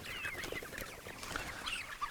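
Pastured poultry chickens clucking softly as a flock is herded along an old fence line outdoors, a steady murmur of short calls over faint background noise with no talk.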